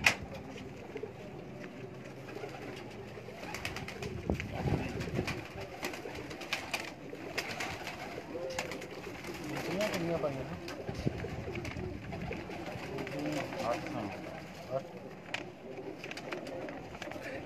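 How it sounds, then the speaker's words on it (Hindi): Champion pigeons in a loft, with soft intermittent cooing and fluttering against a busy background, and people talking nearby throughout. "अभी हम आपको शौक करवाने लगे आज के चैंपियन कबूतरों का"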